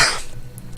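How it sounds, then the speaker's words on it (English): A single short, harsh cough up close, followed by a brief quiet moment. "sorry about this cough."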